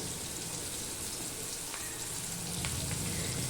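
A large onion drops into hot oil with crackling panch phoron, making a steady, dense sizzle that holds evenly throughout and swells slightly toward the end, close by with no talking.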